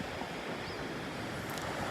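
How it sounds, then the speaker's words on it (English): Small ocean waves about a foot high washing onto the beach at Pawleys Island, South Carolina, a soft, steady broadband hiss of surf, distant and continuous with light wind, no voices. "So the waves today are about a foot, and they're about 9 seconds apart."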